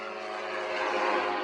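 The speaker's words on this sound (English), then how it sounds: "you can take the ultralight plane and skim the reef." An ultralight plane skims over a Grand Cayman reef, its engine a steady buzzing drone that swells slightly as it passes, with no voices.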